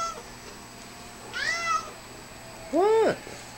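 Two distinct cat meows, excited over cat grass: a shorter higher cry, then a louder, drawn-out meow a second later, close to the microphone over low room noise.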